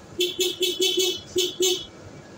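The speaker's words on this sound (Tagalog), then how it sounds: "Ito yung stock horn natin." A 2021 Yamaha Mio i 125 motorcycle's stock horn honks in a rapid series of short, loud beeps, about seven in quick succession, then stops.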